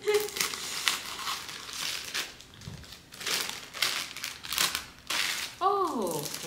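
A plastic bag of Halloween chips crinkles and crackles as it is torn open, in irregular close bursts with someone speaking briefly alongside.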